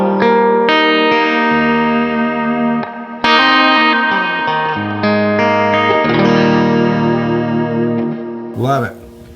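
Electric guitar through a Skylark overdrive pedal with delay plays sustained, overdriven chords and notes, each trailed by echoing repeats, loud and close, ending with a swelling, wavering tone.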